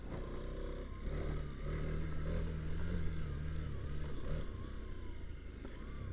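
A TVS Apache RTX 300 motorcycle being ridden gives a low, steady engine drone with a slight rise in revs midway, heard at moderate distance with wind and road noise.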